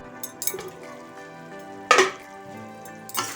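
A spoon clatters and scrapes in a pan while a no-onion, no-garlic mixed vegetable prasad curry is stirred, with a few sharp metallic knocks over a soft background sizzle.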